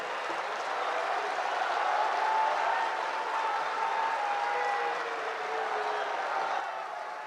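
Audience applause in a packed lecture hall in Karachi, Pakistan, welcoming Dr Zakir Naik to the stage: a dense, steady wash of clapping that holds at an even level throughout, with no voices on top.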